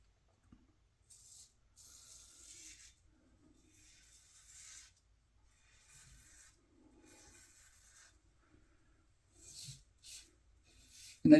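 Razor shaving with the grain on a first pass, quiet scraping strokes in short bursts separated by pauses, close and faint.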